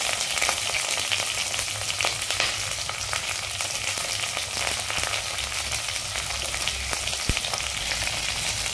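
Carrots, green chili and other vegetables fry in soybean oil for a spicy Punjabi khichuri, giving a steady, dense sizzle with crackling throughout, close and continuous with no talking.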